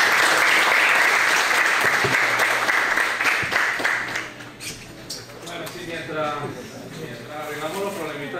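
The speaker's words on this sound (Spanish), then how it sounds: "Un aplauso para el invitado." An audience applauds a guest speaker at a talk about mosquitoes as yellow fever vectors in Ecuador. A dense, steady clapping runs for about four seconds and then thins out as talking continues over it.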